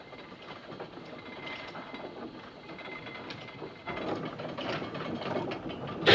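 Film sound from the 1958 Titanic drama of ship's lifeboats lowered on davits, with a steady rattling, creaking mechanical clatter that grows a little louder partway through, no voices.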